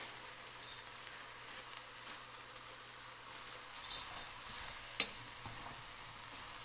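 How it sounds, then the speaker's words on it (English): Carrots, mushrooms, zucchini and frozen corn go into a cooking pot with a soft, steady sizzle, broken by a few light knocks and clatters near the end, with no talking. "So I'm gonna add some carrots, mushrooms, and zucchini."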